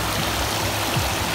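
River water flows loudly and continuously close by at a riverside picnic spot, a steady rushing wash with faint gurgles and no talk.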